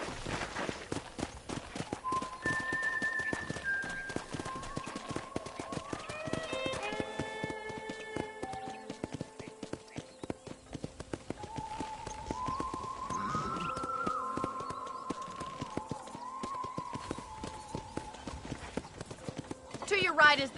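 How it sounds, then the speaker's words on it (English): Horse hooves clip-clop steadily while riding in Red Dead Redemption, with a game character talking throughout over music. "let's see if you can still ride a horse"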